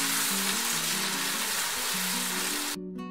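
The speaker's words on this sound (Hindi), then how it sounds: "एक दो मिनट इसे भूनेंगे जब तक लहसुन अदरक फ्राई नहीं हो जाता।" Garlic and ginger paste frying in a pan for shahi chicken curry: a loud, close, steady sizzle that holds for about three seconds and then cuts off abruptly, with no talking.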